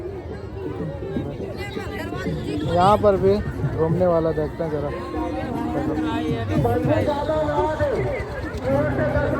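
A dense crowd mills about at a tribal village fair on a dusty ground in the evening, its steady hubbub of many voices running beneath a nearby person talking.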